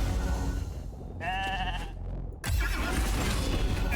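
Sheep bleat from a polymorph skill in the RAID: Shadow Legends video game, a single wavering bleat standing out midway between dense, loud game effects and impacts.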